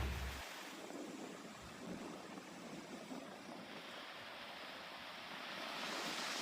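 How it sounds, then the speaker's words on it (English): Strong wind blows steadily outdoors around a Springbar Leisure Port tent shelter, a broad continuous rushing roar with gusty swells and no voices. "As windy as it is,"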